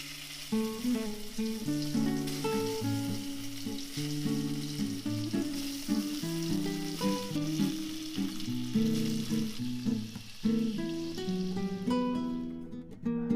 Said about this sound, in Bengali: এখন এই তেলের মধ্যে পনিরগুলোকে ভেজে নেবে